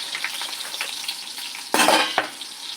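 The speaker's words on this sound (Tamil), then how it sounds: "நாம் கொஞ்சம் வெங்காயத்தை போட்டு நல்லா வதக்கணும்" Sliced onions sauté in a pan of oil for a Tamil kuzhambu, giving a steady close sizzle that swells into a louder, scraping burst of stirring near the end.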